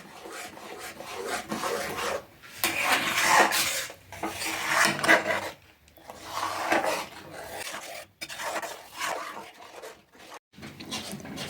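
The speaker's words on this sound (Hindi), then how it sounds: "तो लगातार ही चलाते हुए थोड़ी देर और हम पका लेते हैं पापड़ को।" A thick chana dal papad batter is stirred in a pan, giving soft rasping scrapes that come in uneven strokes with brief pauses between them.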